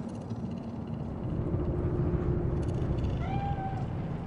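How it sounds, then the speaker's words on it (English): A cat in the video game Cyberpunk 2077 gives a brief meow near the end, heard over a steady low ambient hum of the city. "Do you see it? That cat?"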